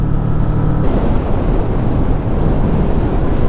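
Strong wind roars across the microphone while riding a 2020 Kawasaki Vulcan S motorcycle through Southern California canyons, a loud, steady rushing buffet with a low engine drone buried beneath and no speech.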